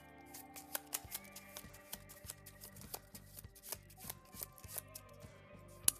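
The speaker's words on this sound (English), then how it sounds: "Shuffle, shuffle, shuffle." Playing cards shuffled by hand during a tabletop game, a run of crisp riffling and snapping bursts with sharp slaps, close and moderately loud with no talk.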